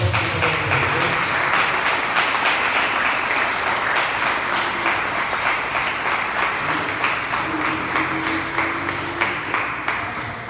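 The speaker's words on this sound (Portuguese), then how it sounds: "as palmas do nome do Senhor" A church congregation claps in praise to the Lord during a Portuguese-language service, a loud sustained round of many hands that carries on for about ten seconds, with faint voices beneath and a slowly easing rhythm toward the end.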